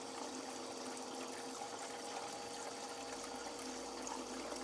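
Paydirt and water pour into a gold pan with a continuous splashing, trickling rush, steady and close, with no talking.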